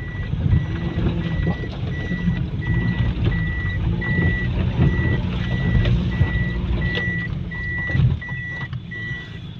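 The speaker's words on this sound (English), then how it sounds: "I'm going reverse." A vehicle backs up with a steady, evenly spaced series of loud reversing beeps over a low engine rumble, close by and with no talk.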